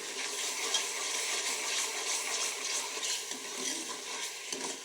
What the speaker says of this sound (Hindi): अभी हम 1 मिनट तक हम इसको यूँ फ्राई करेंगे, चूल्हे की आग को हाई करके।